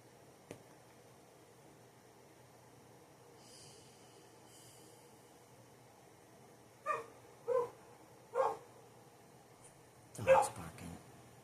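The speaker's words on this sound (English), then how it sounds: "Dog's barking." A dog gives a few short, muffled barks and snorts in a quiet room, four separate bursts spaced about a second apart, then a louder cluster at the end, fairly faint.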